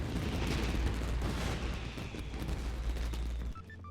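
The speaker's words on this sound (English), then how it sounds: "Yoimiya, this is turning into a bit of a fireworks display." Fireworks bursting in the video game Genshin Impact, a dense run of booming cracks and rumbling blasts for about three and a half seconds before cutting off abruptly.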